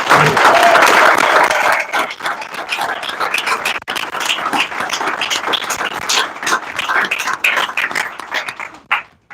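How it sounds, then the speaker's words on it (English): Listeners at a devotional initiation ceremony applaud. A loud burst of many hands clapping at once thins after a couple of seconds into scattered, uneven claps that carry on before dying away at the end. "Let's give them a big round of applause."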